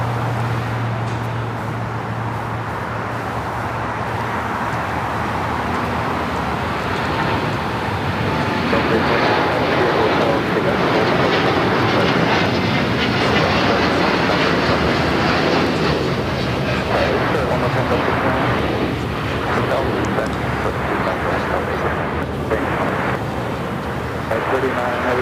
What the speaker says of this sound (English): The United Dreamliner now rolling it down to 5 right.